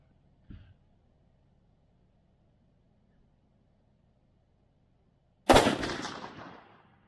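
Rifle fire while sighting in an ATN scope at an outdoor range: a faint distant pop early, then one loud, sharp gunshot near the end with a decaying echo, and otherwise near silence.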